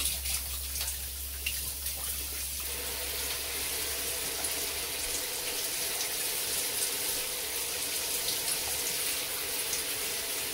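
Shower water runs steadily in a continuous hiss, close and even, with a low hum in the background during the first half and no speech.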